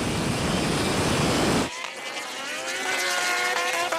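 A Rimac Nevera electric hypercar and a MotoGP motorcycle launch at full throttle in a drag race. A burst of loud roaring noise gives way to a rising, whining engine tone as both machines accelerate.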